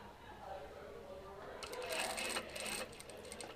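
Sewing machine stitching through a facing and lining near an invisible zip, a steady fast whirring rattle that rises in the middle and then eases, heard close over faint room sound.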